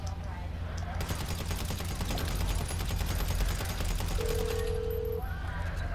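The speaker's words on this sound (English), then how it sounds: "With your pistol, okay? So shoot in the air an entire clip." A pistol emptied into the air in a video game, a rapid run of sharp shots fired in quick succession for several seconds, loud and close, with a voice audible underneath.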